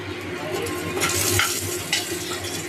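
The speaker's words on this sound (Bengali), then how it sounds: "তেলে দিয়েছি জিরা, ছেড়ে দিলাম মশলাটা। নাড়াচাড়া করতে হবে।" Coconut, poppy seed, ginger, chili and yogurt masala hitting hot oil with cumin seeds in a pan for prawn malai curry, a dense close sizzle swelling briefly as it is stirred, with faint utensil clinks and no voices.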